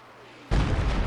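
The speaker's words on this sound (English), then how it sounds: "So I fired off a rocket, and we should see a rocket land basically right in this guy's lap." A Walking Stuka rocket from Company of Heroes 2 lands with a sudden loud explosive boom, a single heavy blast that rumbles on with debris after a quieter lead-in of ambient game noise.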